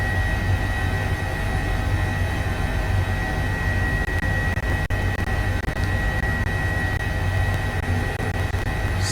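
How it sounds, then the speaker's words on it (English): An HPG H145 helicopter flying in Microsoft Flight Simulator, a steady dense engine and rotor drone with a constant whine, loud and unbroken throughout. "it's a wonderful thing to be able to practice your helicopter flying"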